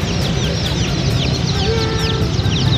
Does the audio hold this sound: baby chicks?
yes